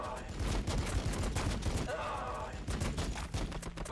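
Gunfire in Warhammer 40K Battlesector crackles in dense, sustained volleys with a busy battle din, and voices speak over it.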